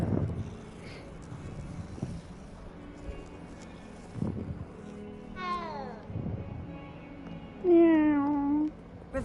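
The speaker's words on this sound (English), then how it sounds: "You gonna pet the kitty cat?" A cat in the Hogwarts video game lets out two drawn-out meows, the second louder and longer, over soft ambient wind and scattered low game sounds.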